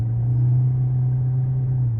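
Steady low engine and road rumble from a 2020 Toyota Corolla Hybrid sedan accelerating in its power mode, a continuous even drone heard from inside the cabin with no voices.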